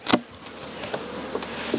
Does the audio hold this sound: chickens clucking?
no